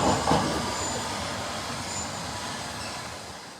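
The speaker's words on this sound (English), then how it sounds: "there goes my S-Stock District line train heading towards Upminster" A London Underground S-Stock District line train pulls away toward Upminster, a steady rumbling roar of wheels and motors that slowly fades, with no voices.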